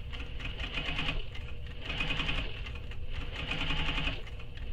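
A sewing machine stitches a shoulder bag in steady bursts, its fast mechanical whirr rising and pausing briefly as the material is turned, close and clear with no talking.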